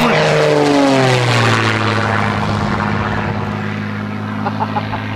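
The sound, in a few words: Red Bull propeller aircraft doing a low pass flyby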